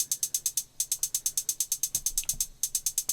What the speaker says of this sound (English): the repeat, which is gonna add this kind of rattle, retrig effect, call it how you want, ratchet